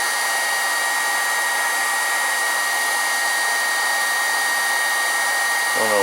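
A heat gun blows hot air steadily onto wood, a loud, continuous broadband whoosh that holds unchanged throughout, close by, with no talking.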